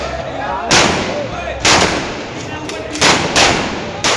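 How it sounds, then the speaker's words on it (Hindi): Celebratory rifle gunfire at the Dimni toll plaza in Morena, Madhya Pradesh: five loud, sharp shots crack out one after another at irregular intervals, each with a brief echoing tail. "एक के बाद एक राइफल से दनादन फायरिंग का ये वीडियो मुरैना के दिमनी टोल प्लाजा का है।"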